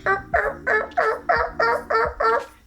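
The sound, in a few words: imitated turkey yelps with a turkey call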